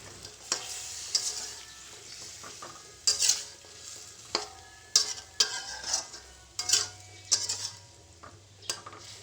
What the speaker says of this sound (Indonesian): masukkan ikan asinnya, kemudian aduk hingga tercampur merata dengan bumbu